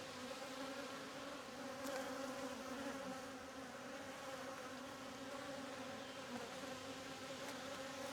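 Honeybees buzzing at a queenless hive in an apiary, a steady low droning hum with tonal layers, continuous and fairly faint, with occasional louder passes of individual bees.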